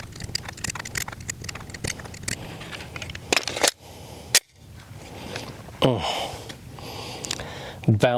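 Shadow Systems DR920 Elite pistol shots at a range: a series of sharp, irregularly spaced cracks, fairly close, with handling noises and brief talk between them.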